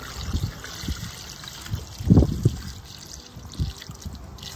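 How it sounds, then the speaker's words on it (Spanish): Water poured into a pot over two kilos of peeled, salted potatoes, a soft trickling and splashing with a brief louder gush midway, close by and without speech. "Voy a cubrir de agua."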